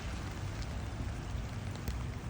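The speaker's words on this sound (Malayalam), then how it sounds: "മഴ പെയ്യുന്നുണ്ട്" Faint, steady patter of rain falling outdoors at Lulworth, Dorset, UK, a soft continuous hiss with no voices.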